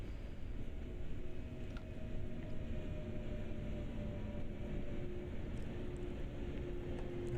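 A train in Train Sim World braking to a halt at Wuppertal Hauptbahnhof on the Rhein-Ruhr route, an eight-car service; a steady low rumble and hum of the slowing train, fairly quiet and even throughout, with no talk.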